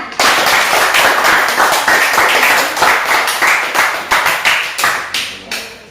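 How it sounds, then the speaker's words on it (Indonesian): Children in a primary school classroom clap together in a loud, rhythmic burst of hand claps, fairly close and continuous for several seconds, tapering into separate sharp claps toward the end. "Tepuk tangan untuk Fajar."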